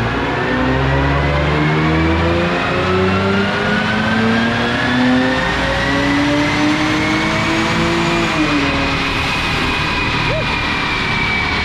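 A Honda S2000's six-cylinder engine with a turbo header revving hard and climbing in pitch through the gears, loud and close, with a steady mechanical roar throughout.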